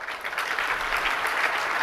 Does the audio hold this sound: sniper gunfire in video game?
no